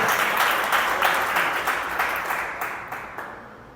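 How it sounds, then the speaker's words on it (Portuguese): A church congregation applauds together in a steady, dense burst of clapping that gradually fades, with no talking over it. "Aplauda o Senhor por isso."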